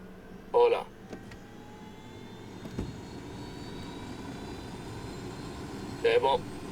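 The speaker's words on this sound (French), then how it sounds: "Je vais tester la conduite de l'hélico." A helicopter in the video game Ghost Recon Wildlands drones as a steady rotor-and-engine hum throughout, with faint clicks and a brief thump in the middle and short bursts of talk near the start and end.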